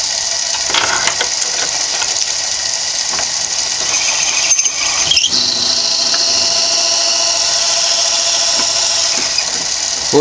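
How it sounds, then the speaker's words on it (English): A power drill whines steadily with a bit boring into wood end grain, a continuous high buzzing with brief changes in pitch, close and loud. "especially when you drill an end grain with them, a boring end grain."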